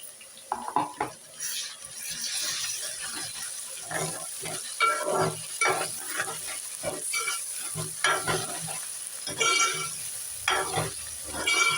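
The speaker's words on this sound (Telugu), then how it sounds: "వాసన వచ్చేటట్టు వేగాలి ఇది" Ginger frying in a pan with onions and green chillies, a steady sizzle broken by repeated scraping stirs, close and moderately loud, with no voices.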